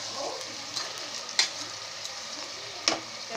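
Rice frying lightly in a pan for vegetable khichdi, a soft, steady sizzle with faint stirring scrapes and two sharper clinks.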